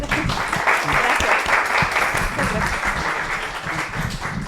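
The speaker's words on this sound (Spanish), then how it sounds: "Un aplauso a la doctora, por favor." A lecture audience applauds a speaker steadily, dense clapping holding at an even, loud level throughout.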